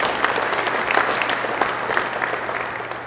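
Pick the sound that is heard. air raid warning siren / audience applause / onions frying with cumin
audience applause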